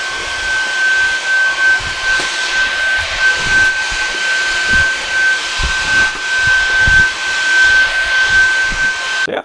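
A VEVOR cordless stick vacuum cleaner with 40 kPa suction runs steadily on a floor, giving a loud continuous whirring hiss with a thin high whine. Small bumps as it moves over the floor, then it cuts off abruptly at the end.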